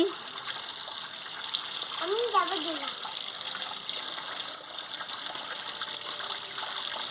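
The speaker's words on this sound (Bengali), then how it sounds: "দেখুন বন্ধুরা চটকে চটকে ভালোভাবে ধুয়ে নিচ্ছি" Chopped water spinach greens being washed and squeezed under running water, a steady gushing stream with faint splashing and handling, close by and fairly constant throughout.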